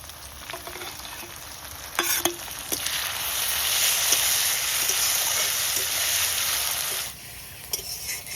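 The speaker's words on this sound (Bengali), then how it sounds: "পেঁয়াজটা লাল লাল হয়ে গেছে, রসুন বাটা দিচ্ছি।" Garlic paste hitting hot oil with browned onions for a red chicken curry, a strong steady sizzle with stirring clinks, swelling loud for several seconds and then dropping to a gentler fry.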